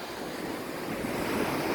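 Ocean surf at Vengurla beach, with green-blue water at sunset, makes a steady, close roar of breaking waves and wash, with wind buffeting the microphone.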